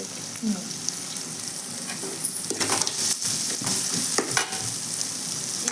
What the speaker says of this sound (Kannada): ಈಗ ನೋಡ್ರಿ ಎಲ್ಲ ಫ್ರೈ ಆಗುತ್ತೆ